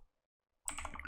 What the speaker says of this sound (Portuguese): eu vou dar um Enter, vou digitar